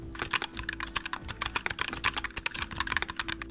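Fingers type on a mechanical keyboard fitted with factory-lubed Light Wave V2 switches. They give quick, even, close-up keystrokes with soft, smooth clacks at a rapid steady rhythm.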